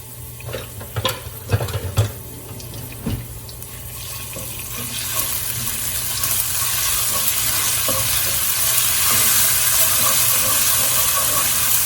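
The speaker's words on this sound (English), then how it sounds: "Now you want to really fry up the ginger and garlic." Ginger, garlic and curry leaves frying in a pan for a curried chicken, a steady hissing sizzle that grows louder and denser, with a few clanks and stirring sounds early on.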